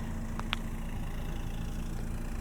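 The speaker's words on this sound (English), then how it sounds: "You've got the center exit exhaust here, which is kind of surprisingly throaty at idle." A 2023 Kia Soul GT-Line hatchback idles with its center-exit exhaust giving a low, steady, throaty hum, joined by two brief faint high chirps early on and no talking.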